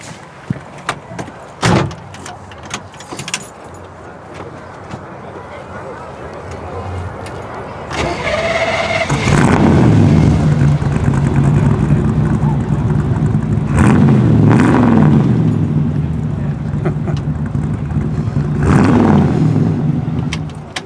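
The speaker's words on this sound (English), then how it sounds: "And then can we hear how the car sounds?" A 1967 Chevrolet Impala cranks and fires up around eight seconds in after some clicks and door sounds, then settles into a loud, steady idle with several swelling revs, heard up close with no talking.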